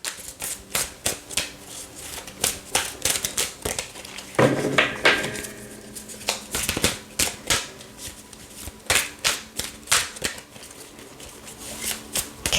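Archetype cards shuffled by hand for a reading, a run of quick crisp riffling bursts and soft slaps repeating throughout, close and clear with no talk.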